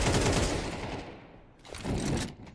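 Gunfire in an esports match of an online shooter, quick bursts of rapid shots, a pause, then another short volley, moderately loud.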